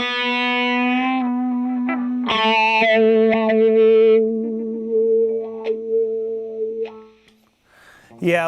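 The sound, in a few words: electric guitar with light drive through a wah pedal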